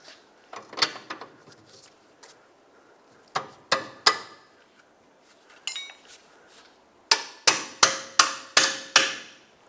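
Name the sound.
putting bolt through control arm and knuckle, Chrysler Sebring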